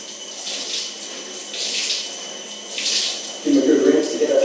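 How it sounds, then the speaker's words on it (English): Cold shower water runs steadily in a bathroom, a soft hiss that swells and falls for a few seconds, then a louder splashing surge near the end. "Nice cold shower."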